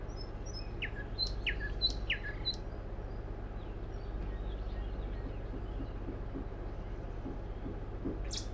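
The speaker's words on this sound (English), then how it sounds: "Should have some bird sounds." Chirps and tweets from birdsong effects come in short clustered bursts near the start, then a single call near the end, all over a constant low hum of background noise on a stream.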